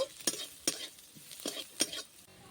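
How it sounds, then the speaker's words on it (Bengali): Onion, garlic and ginger being stirred and fried in a pan, a soft sizzle beneath repeated close scraping strokes of a spatula at a quick, uneven rhythm, with no voices. "ভালো করে পেঁয়াজ রসুন আদাটা ভালো করে ভেজে নেব।"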